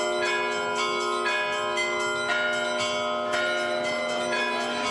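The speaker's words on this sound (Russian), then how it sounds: "колокольный перезвон играет на перебой вот такой вот веселой гармошки" Church bells peal for Christmas in the village of Nikolskoye, Tatarstan, ringing a busy, overlapping chime with strikes repeating every second or so. The ringing is bright and steady throughout, with no voices.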